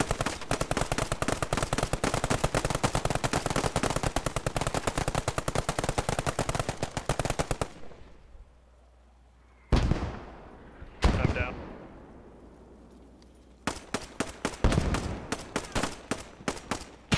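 Rapid, loud automatic gunfire from a military squad video game rattles continuously, then breaks off into heavy single booms of mortar fire and echoing blasts, followed by further bursts of shots; no voices are heard.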